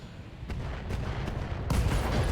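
Missile barrage explosions in the mech combat game Battletech, several dull booms and blasts rumbling over a steady low battle din, growing louder with a heavier impact near the end, no talking.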